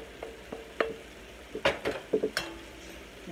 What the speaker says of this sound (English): We're going to put the mushrooms and onions back in there.